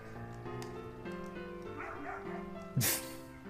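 A dog in Final Fantasy IX lets out a short yipping bark over steady game music, with one sharp, louder bark near the end.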